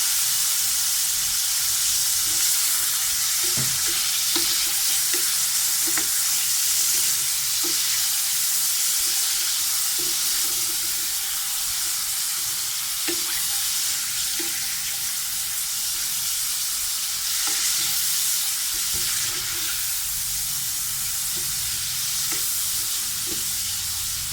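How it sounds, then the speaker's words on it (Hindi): Chicken fries in a pan with a steady, close sizzle and hiss, broken by regular soft clinks and scrapes of stirring throughout, with no talking. "इसको हम फ्राई करेंगे जब तक इसका कलर तब्दील नहीं हो जाता"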